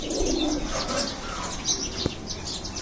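A red-eyed flying pigeon coos softly over steady outdoor background noise, with a brief sharp click near the end and a few faint chirps.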